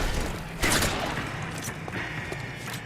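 A burst of gunfire in L.A. Noire, a brief cluster of shots and mechanical clatter amid steady game ambience, moderately loud.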